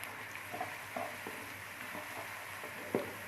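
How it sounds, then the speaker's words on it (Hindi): Ginger and garlic paste frying in a pan for chickpea pulao, a soft continuous sizzle with occasional light stirring taps, near but fairly quiet, with no voices. "1 मिनट के लिए इसको फ्राई करेंगे हम।"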